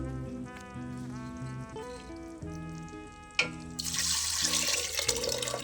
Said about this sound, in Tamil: இந்த புளி தண்ணி ஊற்றினோன்னே இந்த பருப்பு தண்ணி ஊற்றிக்கலாம்